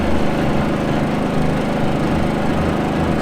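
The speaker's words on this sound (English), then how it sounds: "the generator did kick on a little heavier now that it's taking on the load of the steamer" A Predator 3500 portable generator runs under the heavier load of a steamer used for mobile detailing, giving a loud, steady, buzzing engine drone that is close and continuous.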